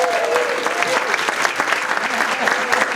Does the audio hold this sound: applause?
yes